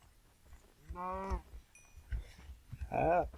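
Two short cow moos from Minecraft sound close by, separated by quiet shuffling and light clatter, with no talking.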